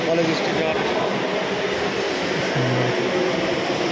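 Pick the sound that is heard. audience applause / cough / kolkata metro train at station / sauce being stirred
kolkata metro train at station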